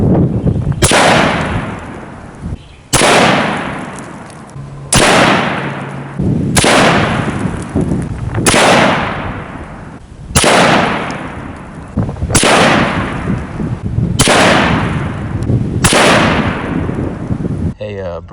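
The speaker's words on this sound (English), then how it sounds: "I'll quickly rush through the next 10 shots before I speed up the process." A 22 Creedmoor rifle fires load-test rounds at a 100-yard target, eight loud sharp cracks spaced about two seconds apart, each trailing into a brief rumbling decay.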